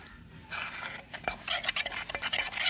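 A utensil stirs and scrapes a firm, dry cheese filling for cannoli in a bowl, making close, irregular clinks and scraping strokes that speed up toward the end.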